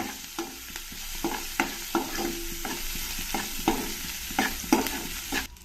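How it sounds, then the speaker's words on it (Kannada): Dried red chillies fry in a pan, a soft steady sizzle broken by a string of scraping stirs and light taps from the spatula, close and moderately loud, with no voices. "ಇದನ್ನು ಸ್ವಲ್ಪ ಫ್ರೈ ಮಾಡ್ಕೊಳ್ಳೋಣ"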